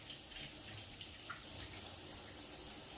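Tap water runs steadily from a kitchen faucet while a jar is rinsed out at the sink during dinner cooking, a soft continuous hiss and splash without any talk.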